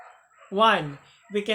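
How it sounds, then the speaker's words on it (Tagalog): A dog in a rural area gives a couple of yipping, whiny barks nearby, loud and brief, with a short follow-up bark after a pause. "Pasensya na sa mga tunog ng aso, I'm in a rural area."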